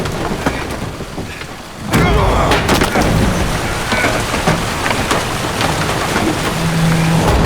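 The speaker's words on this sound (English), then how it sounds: "Didn't bargain for no storm." Heavy rain from a thunderstorm in The Witcher 3: Hearts of Stone bursts in loud and dense after a quieter start, with a rumbling wash and scattered sharp cracks continuing to the end.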